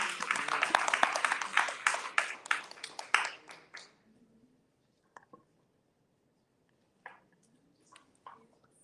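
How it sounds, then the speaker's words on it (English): An audience at a book event, the San Diego Book Confab at the iQ Smart Center, gives a round of applause. Dense clapping fills the first few seconds, thins out and stops, and a few scattered claps and small noises follow in the quiet. "Round of applause."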